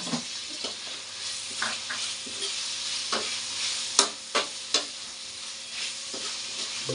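Tomatoes sizzle in a hot pan while a utensil stirs and scrapes them, with a steady frying hiss broken by repeated sharp scraping strokes, close and clear with no talk.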